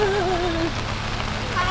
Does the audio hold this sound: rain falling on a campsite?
yes